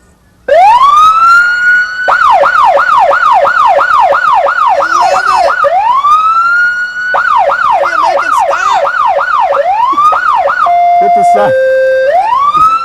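A loud, close police siren cycles through a long wail into rapid yelping bursts, switching patterns several times and ending in a steady two-tone blare.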